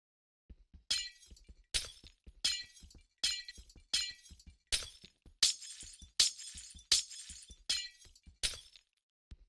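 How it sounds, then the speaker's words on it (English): Glass blocks breaking one after another in Minecraft, about a dozen sharp shattering crashes at a steady rhythm, each preceded by soft tapping clicks, clear and alone with no talk. "Let's knock out the glass, because it's unnecessary"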